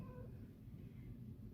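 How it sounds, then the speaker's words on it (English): A pet cat gives a faint, short meow once at the start, close by in a quiet indoor room, with no talking over it. "I have a demanding cat right now who is, hey, stop, who is demanding that I give her attention and everything"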